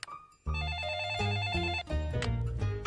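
An old-style telephone bell rings in a cartoon home, a bright, loud trilling ring that starts abruptly and repeats in two close bursts.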